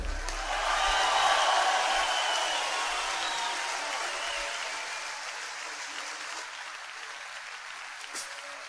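Concert audience applauding in a hall at a rock show, a dense, steady wash of clapping that swells early and slowly fades, heard without talk.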